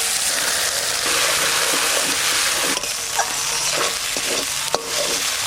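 Bay leaf, dried chilli, cumin and spices frying in hot oil in a pan for a fish curry, a steady loud sizzle with a few sharp clinks of a utensil stirring toward the end.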